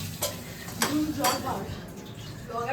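A busy kitchen preparing food for a Hanuman Jayanti puja gathering, with sharp clinks of utensils against pots, stirring and a background sizzle of frying, under faint chatter from people nearby.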